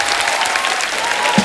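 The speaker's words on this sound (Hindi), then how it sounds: "जोरदार तालियां एक बार ट्रेलर के लिए।" Loud studio audience applause on a comedy talk show after a film trailer, a thick continuous burst of many hands clapping close up.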